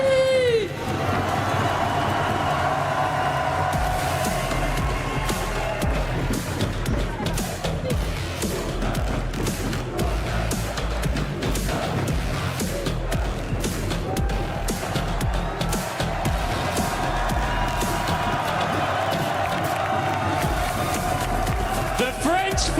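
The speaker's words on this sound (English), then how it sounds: "the crowd is on its feet" Crowd cheering at a Valorant esports playoff event in Paris, a steady loud roar of many voices with clapping that fills the whole stretch, with a commentator talking over it.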